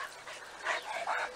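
Dogs barking and yapping at three hens through a henhouse fence, a couple of bursts of barking at moderate distance over background noise, no talk.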